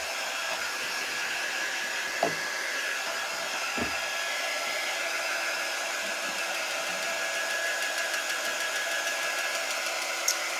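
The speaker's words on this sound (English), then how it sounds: "Let me give this a quick dry." A hair dryer blows continuously to dry paint on pumpkin cutouts, a steady, fairly loud whooshing hiss held for the whole stretch, with a couple of faint knocks as things are handled nearby.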